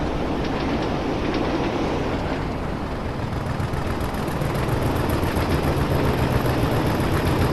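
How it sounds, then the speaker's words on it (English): A passing train in the Train Sim World game on the Tees Valley Line, a loud continuous rumble and roar with rhythmic rail clatter building toward the end, no talking over it. "Oh, is that another train coming down?"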